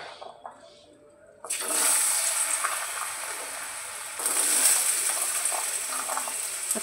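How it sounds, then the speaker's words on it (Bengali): Potatoes hit a hot pan and break into a sudden hissing sizzle after a quiet start, then keep crackling steadily close by and swell louder midway. "আলুটা ভেজে নিই।"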